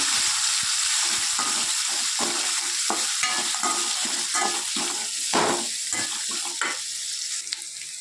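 Large onions fry in a pan for a Tamil-style mutton curry, giving a steady close sizzle broken by repeated scraping stirs of a spoon against the pan, with no talking.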